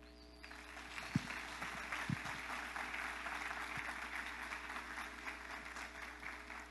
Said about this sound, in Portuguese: Eu queria que você pudesse receber com uma salva de palmas o Michel e a Carlinha.